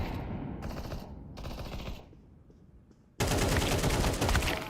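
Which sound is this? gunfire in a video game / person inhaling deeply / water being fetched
gunfire in a video game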